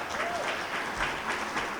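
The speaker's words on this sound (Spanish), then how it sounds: "Y yo creo que sí se merece otro aplauso" An audience at a state budget government event applauds, a dense, sustained patter of many hands clapping at a moderate level with a few slight swells.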